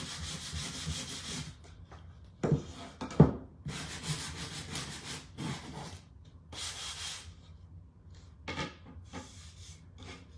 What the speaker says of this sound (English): let's just go ahead and sand it down a little bit